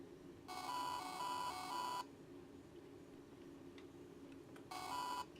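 A failing hard drive gives off a harsh, buzzy electronic beep that lasts about a second and a half, falls silent for roughly three seconds and then starts again, sounding steady and faint with a faint whistling tone inside it.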